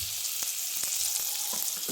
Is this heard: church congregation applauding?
no